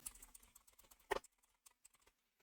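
Quiet, rapid keystrokes on a computer keyboard clatter in an irregular rhythm, with one louder clack midway before the tapping thins out.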